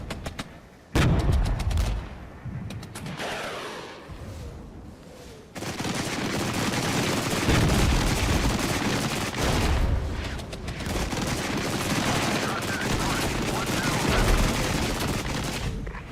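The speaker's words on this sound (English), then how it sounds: "I'm going to dump some artillery DPICM and we'll get my Akatia start putting some rounds down." Artillery barrages and gunfire from the Regiments wargame, including DPICM rounds, thunder steadily with dense rapid shots and heavy booms, loud and continuous after an opening burst of quicker fire.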